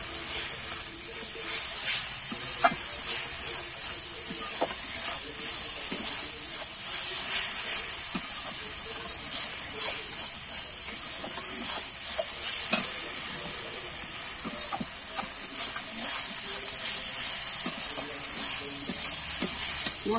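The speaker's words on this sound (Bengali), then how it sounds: "এবারে ভালো করে কিন্তু আমি কষিয়ে নেবো, একটু জল দিয়ে দিলাম যাতে শুকনো মশলাটা ভালো করে কষানো যায়।" Dry spice masala with red chilli powder and a splash of water sautéing in a pan, giving a steady loud sizzle and hiss with occasional stirring scrapes.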